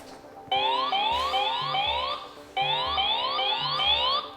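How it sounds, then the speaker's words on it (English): An e-bike's anti-theft alarm, triggered by moving the bike, wails loudly in rapid rising sweeps, repeating in two bursts with a brief pause between them, piercing and close. "so just like that, the alarm was activated."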